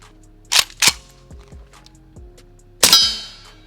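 Gunshots from an M70AB2 AK rifle, a government contract model, firing three sharp cracks with ringing metallic decay, two close together and then one more after a pause.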